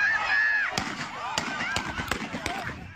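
Gunshots fired after a youth football game for 9-year-olds, a string of sharp, distant cracks in irregular succession, with a whistle-like tone at the start and background noise from the scene.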